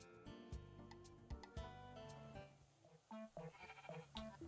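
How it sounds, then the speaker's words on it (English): Sheep in the video game Discounty bleat repeatedly, several wavering cries in close succession over light game music, clear and up front with no talking. "Please, Mr. Sheep, I implore you, stop eating my heather plants."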